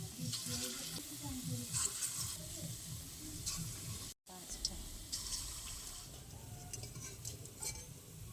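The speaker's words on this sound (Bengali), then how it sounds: "এবার বড়া ভাজার জন্য বড়াগুলো দিয়ে দেবো" Palm fruit fritters (taler bora) drop into hot white oil in a kadai and fry with a steady, bright sizzle, joined by scraping and rustling from the pan and a brief cut partway through.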